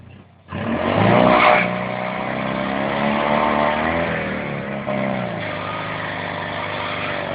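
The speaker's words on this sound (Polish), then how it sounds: "Jaramy gumę." A small off-road Fiat 126p engine revs hard as its tires squeal and skid on loose ground, loud and close, the whine sustained for several seconds.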